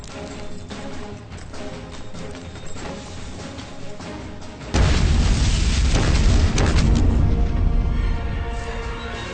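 A loud explosion bursts in from a French-dubbed fantasy action film, Lords of the Dragon (2018), with a sudden broadband boom halfway through followed by sustained rumbling debris and roar that slowly fades.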